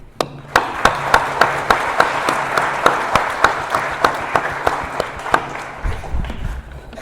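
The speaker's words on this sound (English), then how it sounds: "I want to give a big applause to everyone who helped and for all of you" Sustained applause from an audience at an Arangetram dance event, with dense clapping and sharp individual claps at a steady beat, lasting several seconds before fading into low murmurs.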